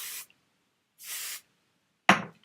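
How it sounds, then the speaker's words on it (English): Two short bursts of aerosol hairspray hiss onto hair close by, then a sharp knock as the can is set down. "I'm going to spray with hairspray"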